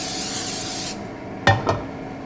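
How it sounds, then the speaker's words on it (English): Coconut oil cooking spray hissing onto a pan, one sustained spray burst followed by two short quick puffs, close and clear with no talk. "We got coconut oil spray"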